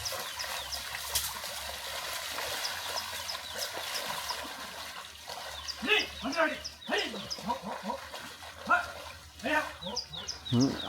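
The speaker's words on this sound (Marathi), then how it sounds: "त्यांचे सोडलेले कुत्रे बघा हे राखणदार आहेत" Guard dogs bark in short bursts from a moderate distance in rural Konkan, India, with a steady trickle of running water underneath and some voices.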